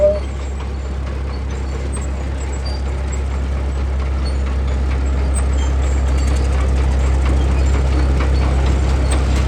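A Caterpillar D4 antique tractor rumbles by in a parade at an antique tractor show, a steady low engine drone that grows slightly louder, with a commentator talking over it.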